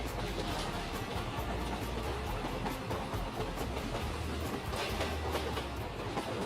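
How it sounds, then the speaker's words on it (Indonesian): A cartoon locomotive hauls a line of wagons along rails through a junction, a steady rumbling roll with repeated clickety-clack beats from the wheels, moderately loud and continuous. "Liko terus menghela gerbong-gerbong itu."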